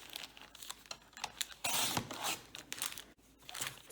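Scrap paper being cut and handled for a homemade journal gives soft, close crinkling and rustling, with one louder burst of tearing-like crackle in the middle.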